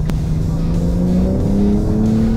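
A powerful new dream car's engine climbs steadily in pitch under hard throttle, loud and close from inside the cabin, a continuous rising roar with no talking.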